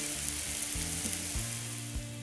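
Porterhouse calf steak sizzles steadily in a hot pan, a constant crackling fry with a few louder pops and stirring knocks, close and alone with no talk.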